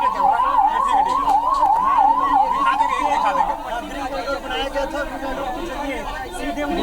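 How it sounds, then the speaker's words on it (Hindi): An ambulance siren wails in a steady rising-and-falling sweep as it arrives for a minister injured in a road accident, then fades beneath a crowd's chatter and a reporter talking. "एक एम्बुलेंस आई दिखाई पड़ रही है"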